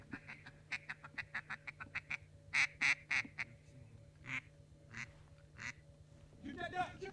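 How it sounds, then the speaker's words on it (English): Ducks quack repeatedly in quick bursts during a duck hunt near Elgin, Oklahoma, fairly close and clear, with a few louder honking calls and brief talk toward the end. "Shoot that duck."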